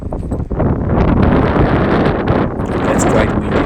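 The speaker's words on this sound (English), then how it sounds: "It's quite windy out here" Strong wind buffets the microphone outdoors at an airport, a loud continuous rushing roar with gusty low rumble throughout.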